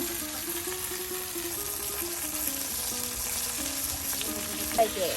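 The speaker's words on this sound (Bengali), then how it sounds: "এই যে পিও মাছের টুকরাগুলো কিন্তু এখন দেখুন তেলের সাথে একদম ভালো করে ভেজে নেওয়া হচ্ছে" Pieces of rohu-style fish frying in oil in a village kitchen, a dense, even sizzle with faint tonal singing from the oil throughout and a small knock near the end, no voices.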